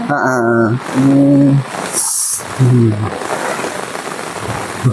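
Rain falls steadily as a dense hiss on a ramshackle hut in the middle of a forest, while people talk over it nearby.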